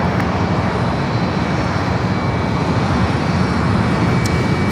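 An American Airlines Airbus A321neo, flight 345 to Miami, departs Los Angeles airport with a loud, steady jet engine roar heard up close and unbroken, with no talking.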